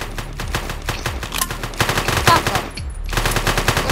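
Rapid automatic gunfire in a video game, a steady stream of close, loud shots with a short pause before resuming.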